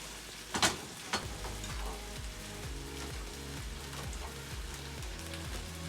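Thick-cut onions frying in a pan, a steady close sizzle with a couple of sharp pops and clanks of a large ladle near the start, no voices.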